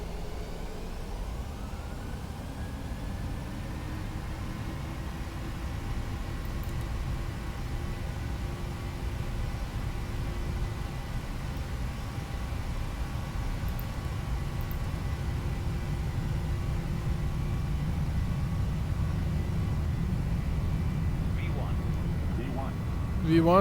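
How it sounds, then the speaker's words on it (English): Boeing 737 jet engines at takeoff power during the takeoff roll, a steady loud roar with a broad rushing hiss and faint rising whine that holds for over twenty seconds. "Takeoff power set."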